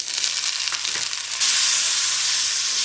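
Finely chopped tomatoes and green chillies hitting hot oil in a pan for bhindi masala, a dense hiss with stirring scrapes that jumps into a louder, steady sizzle partway through.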